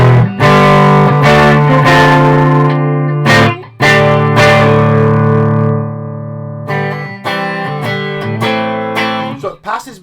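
An electric guitar played through a VOX MV50 amplifier with distortion, giving loud, sustained, heavily driven chords with rhythmic attacks and brief breaks, and the notes ring out between strums.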